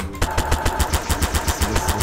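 Bomb blasts in the Garry's Mod video game go off as a rapid, steady string of loud, punchy bursts, about a dozen in two seconds, like automatic gunfire, with no talking.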